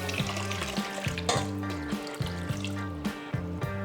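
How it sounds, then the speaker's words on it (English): Water pours into a pot holding a can of condensed milk, a close, continuous splashing stream whose gurgling tone rises and resets in repeated sweeps as the pot fills. "So let's pour more water into this."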